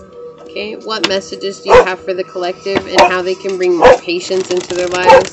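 Several dogs bark in short repeated bursts, loud and close, over a woman's steady speech; about four sharp barks with yips and whimpers between them.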